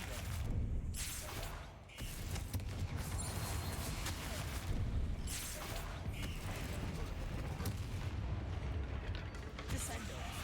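Confringo blasting spell exploding in Hogwarts Legacy, a run of loud, dense booming blasts and crashing impacts filling the whole stretch with battle noise.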